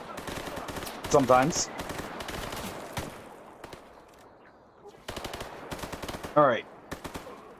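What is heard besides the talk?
gunfire in a video game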